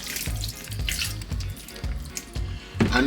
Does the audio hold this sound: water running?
yes